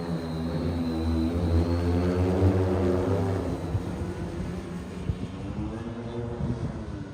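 A Pivotal manned drone flies overhead with a loud, droning multi-rotor whine whose pitch slides and wavers as it moves off into the air, fading slightly toward the end.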